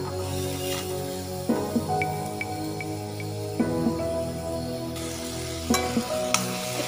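Cabbage and tomato frying in a pan, a steady close sizzle with intermittent stirring scrapes and clinks of a utensil, no voices.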